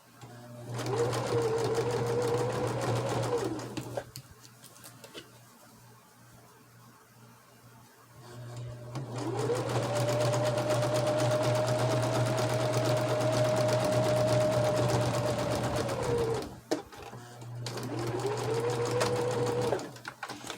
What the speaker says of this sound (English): I just sewed those two squares together just by overlapping them